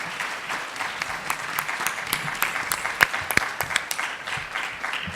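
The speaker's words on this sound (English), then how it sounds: "So please join me in a round of applause." Audience applause for a panel at a long-term care policy event, a steady round of many hands clapping at moderate level, with a couple of sharper claps standing out near the middle.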